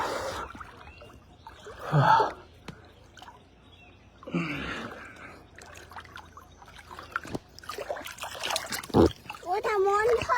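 Someone dips into river water, making several close splashes and dribbling trickles between stretches of voices talking and gasping.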